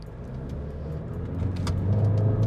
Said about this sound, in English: we're gonna do a quick acceleration test, 0 to 80